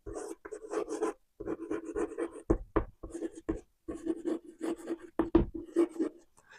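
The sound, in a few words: writing on the board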